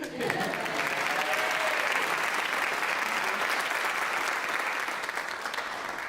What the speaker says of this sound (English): Let's clap for Harriet